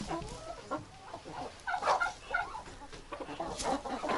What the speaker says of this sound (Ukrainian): Зараз яєчко корочка знесе.